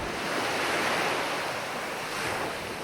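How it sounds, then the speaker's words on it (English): Ocean-like rush heard inside a seashell or cupped hands, a soft, steady hiss like distant crashing waves and wind, with no voices. "can hear the wind or sound of crashing waves"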